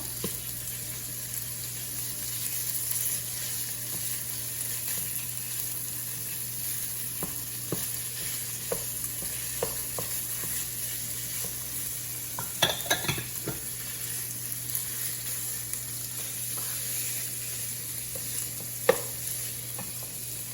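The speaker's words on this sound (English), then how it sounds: "after the onions got caramelized, we're gonna add our ground beef" 80/20 ground beef frying in a pan with caramelized onions gives a steady, even sizzle throughout, with occasional sharp clicks and scrapes of stirring and a brief cluster of louder knocks midway.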